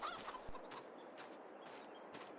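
Chickens cluck softly in the Farming Simulator 22 video game, with several brief, faint calls repeating over a steady background hum and no talking.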